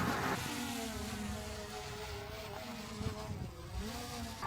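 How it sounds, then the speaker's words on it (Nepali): A small drone flies outdoors with a steady buzzing motor whine whose pitch wavers and shifts slightly as it manoeuvres, heard fairly close and alone. "ल उड्यो ड्रोन उड्यो"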